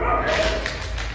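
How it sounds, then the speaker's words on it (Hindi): Dogs bark loudly and excitedly near the listener, a burst of overlapping yips and barks over a steady low rumble of background noise, with a voice murmuring underneath. "आप दोस्तों देखो कुत्ते कितने तेज भौंकने लग गए"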